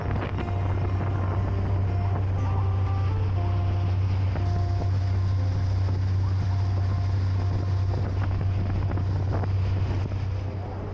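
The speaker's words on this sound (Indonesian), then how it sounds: "Deru mesin diesel yang sejak tadi menemani kami kini terdengar lebih pelan." A river taxi boat's diesel engine drones steadily on a Kalimantan river, a loud low rumble that holds constant throughout, with wind buffeting the microphone and no voices.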